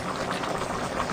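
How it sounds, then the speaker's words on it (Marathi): Drumstick curry bubbles at a rolling boil in a pot, a close, continuous burbling and simmering with no break. "शेंगांना चांगला उकळ आलेला आहे"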